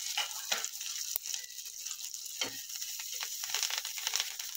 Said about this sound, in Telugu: హై ఫ్లేమ్లో పెట్టుకునే వేయించుకోవాలండి